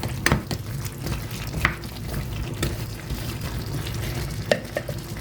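Malunggay pods in a pinakbet are stirred in a frying pan, a steady sizzle under repeated scraping and clacking of the utensil against the pan at an uneven rhythm.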